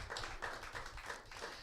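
Scattered, thin clapping from a small audience at a Halloween comedy show, a handful of quick irregular claps, fairly faint and brief.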